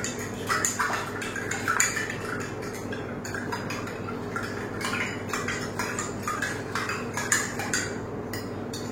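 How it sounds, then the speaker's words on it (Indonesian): A spoon stirs granulated sugar into cool, not hot, water in a cup or glass, giving a run of quick, uneven metallic clinks and scrapes against the vessel over a soft background hum, with no talking. "Kita aduk dulu sampai dia larut semua."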